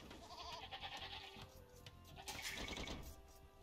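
Sheep bleat within Age of Empires gameplay, short game-sound bleats amid busy in-game effects, quiet overall.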